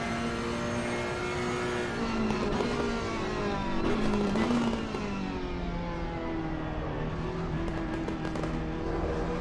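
GT3 race car engine at Suzuka circuit, a loud continuous high-pitched howl that rises and falls with throttle, including a brief lift and pickup, heard on track without talk.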